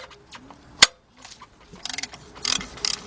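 Hand ratchet with a 15 millimeter socket loosening a bolt on a 2010 Ford Explorer 4.0 engine, giving close, quick bursts of clicking pawl ticks in several short runs after a sharp knock.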